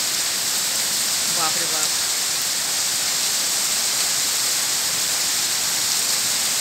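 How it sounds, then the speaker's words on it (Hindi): Heavy evening rain pours down steadily as a dense, constant hiss that fills the whole clip, with a man briefly exclaiming partway through. "तेज बारिश है, बाप रे बाप, पानी की इतना तेज गति से गिर रहा है"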